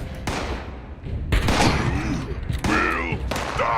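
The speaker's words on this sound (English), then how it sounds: "Try to be cool and use my grenade, and it went too far." Grenade blast in the video game Fallout 76 sounds amid a burst of gunfire, with sharp booms and thuds at several points, and the player's voice is heard between and over the shots.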